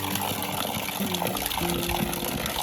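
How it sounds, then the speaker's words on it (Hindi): Fresh water flows and gushes steadily from a source in a frozen, snow-covered spot at about minus 18 degrees, a continuous close trickling rush under faint background hum. "पानी तो चल रहा है फर्स्ट क्लास, यहाँ पे कोई दिक्कत नहीं, ताज़ा पानी आ रहा है"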